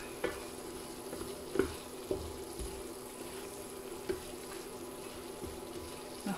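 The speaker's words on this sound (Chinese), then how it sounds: "素香酥鸡直接倒下去。 就可以炒一下，然后弄匀它就可以了" Vegetarian crispy chicken is stir-fried in an iron wok over high heat, with a soft sizzle beneath irregular scrapes and knocks of the spatula against the pan.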